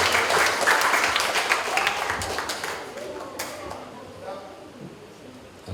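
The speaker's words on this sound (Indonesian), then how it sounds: "Kita beri aplaus untuk Giovanni." Audience applause at an elementary school graduation and farewell ceremony, dense clapping from a crowd that is loud at first and then thins and fades over several seconds.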